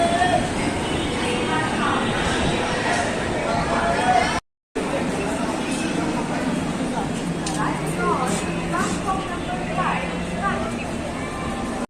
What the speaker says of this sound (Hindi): हमारी train Hemkund express platform number 5 पे सहारनपुर में आ चुकी है।